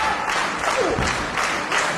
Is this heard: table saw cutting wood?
no